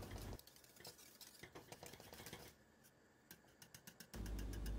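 A spoon scrapes and clinks rhythmically against a pot while stirring a thick, thickening pudding-like mixture with vanilla added, quick repeated strokes heard up close over a low background hum.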